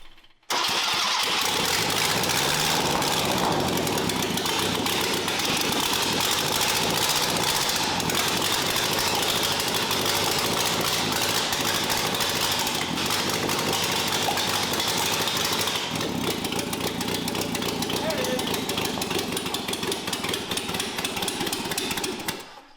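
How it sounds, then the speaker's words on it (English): Porsche engine in a fire-breathing kart running on open exhaust, a loud, harsh, continuous roar close by that holds steady for over twenty seconds, with a brief rise near the start and a slight change in tone later. "You don't want to run it too long on open exhaust."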